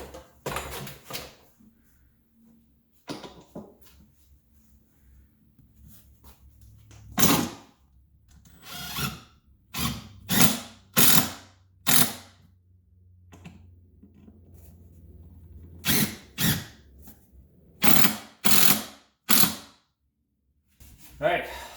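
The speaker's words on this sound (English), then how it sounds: "So now we're just going to plow these screws in." Screws driven into a garage wall during a DIY garage makeover, heard as a series of short loud bursts from a power driver, some spaced apart and some in quick pairs, with quiet gaps and a little talk between.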